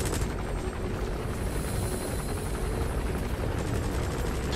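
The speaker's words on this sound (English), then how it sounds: "Blow up the other helicopter." A helicopter in the video game Metal Gear Solid V roars continuously with a loud, dense rotor and engine wash, steady throughout with no talk.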